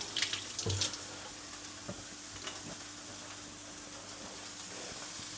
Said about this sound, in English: Might wash my hands again.